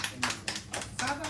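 Audience clapping at a cake-cutting ceremony during an annual celebration in Dubai, heard as several bursts of applause from a nearby crowd with a voice talking over it.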